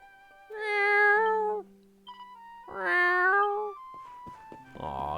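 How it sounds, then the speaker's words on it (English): A cat meows twice in Dragon Quest 11, each a clear drawn-out mew lasting about a second, with a steady low game tone between them and a brief sound at the end. "Aw, good kitty."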